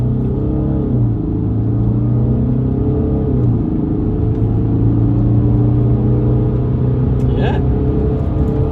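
A Mercedes CLS 350 turbo engine pulls hard in second gear, a loud, steady drone climbing in pitch as the car accelerates, heard from inside the cabin.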